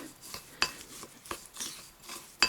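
A spoon stirring a salt scrub mixed with sunflower oil in a bowl, making a few sharp clinks and scrapes in an uneven rhythm, close and fairly quiet.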